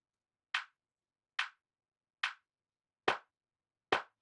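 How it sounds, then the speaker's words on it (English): Five short, dry claps from a pitched-down sample in a hard techno rave loop, evenly spaced with silence between them, the last two heavier with a deeper low thump. "not too crazy, just a clap"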